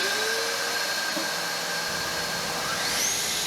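A track saw with a dust extractor attached cuts through a wood slab, giving a steady, close whirring hiss with a faint whine that shifts slightly near the end.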